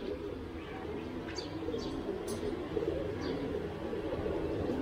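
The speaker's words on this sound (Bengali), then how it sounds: "আমার এই তিনটা কবুতর আপনারা দেখতেছেন" Pigeons kept as racing birds coo softly a few times against a steady low background hum, with faint chirps and no talking.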